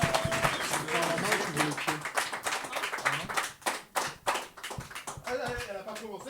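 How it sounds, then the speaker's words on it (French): An audience at a French slam poetry evening claps and applauds in a dense, lively burst that thins into scattered claps, with a host's voice talking over the noise. "On l'applaudit plus fort."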